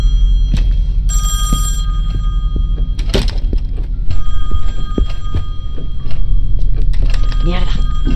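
A telephone rings in the horror video game Song of Horror, an electronic bell-like trill over a low droning ambience with scattered thuds and clicks.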